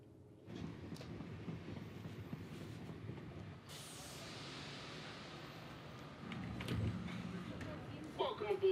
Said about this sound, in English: Welcome aboard the 732 train to Waterloo.